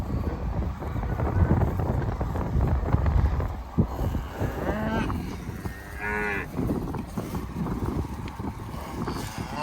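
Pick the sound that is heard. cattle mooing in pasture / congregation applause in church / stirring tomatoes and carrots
cattle mooing in pasture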